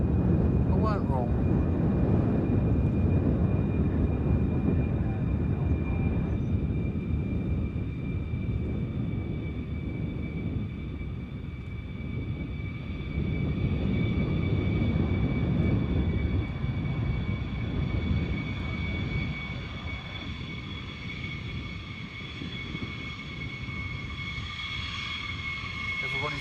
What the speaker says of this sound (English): I thought I saw an F-15.